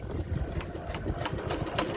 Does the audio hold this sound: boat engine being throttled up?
yes